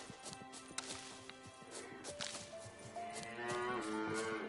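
Cow lowing inside The Witcher 3's White Orchard, several drawn-out moos rising over a busy game soundscape with scattered knocks and thuds, fairly faint and without speech.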